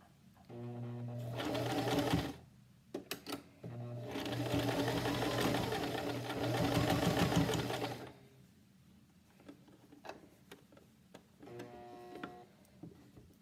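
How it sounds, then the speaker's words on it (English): A sewing machine stitches the pleats of a fabric face mask in bursts, a short run, a few clicks, then a long steady whirring run, with faint handling noise afterward and no talking. "sew my um, pleats together with a quarter inch seam"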